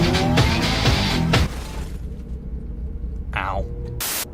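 A Lamborghini in a driving game screeches its tires in a loud skid, with engine rumble and a talking voice over the first part, then a quieter stretch broken by two sharp squeals.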